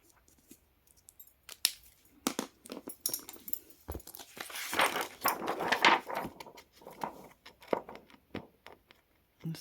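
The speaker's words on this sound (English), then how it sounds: "to cut a couple of squares of acetate" Scissors snipping through a clear acetate sheet, a close series of crisp irregular cuts that grows busier in the middle, with no one talking.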